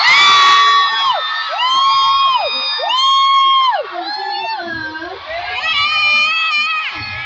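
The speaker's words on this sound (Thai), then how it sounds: "พวกเราจะไม่ลืมเสียงกรี๊ดของทุกคนเลยนะคะ" A concert crowd at a show during the Sound Check Festival 2023 in Thailand screams and cheers loudly and continuously, with shrill rising and falling whoops overlapping in waves.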